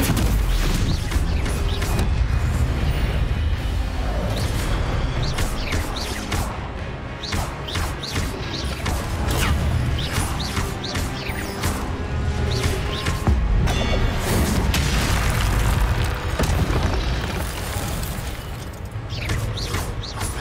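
Hogwarts Legacy fire spell Incendio cast in combat, a dense roaring blast with crackling bursts and mechanical clatter layered over loud game music, sustained throughout.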